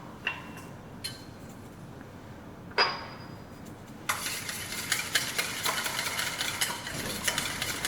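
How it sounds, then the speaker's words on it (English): Olive oil being whisked into a salad dressing, first a few separate clinks and taps against the bowl, then a busy, continuous rapid whisking scrape that lasts to the end, close and fairly loud with no talking. "while you're whisking that, just whisk the olive oil in, so kind of all those 4 things come together nicely and emulsify"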